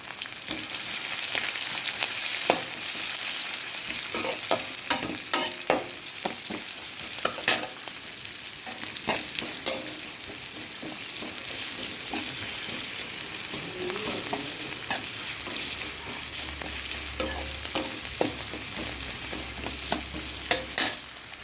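Steady, close sizzling of onions frying in a pan as tempering for shavige bath (vermicelli dish), with frequent scraping and clinks from stirring throughout; no voices.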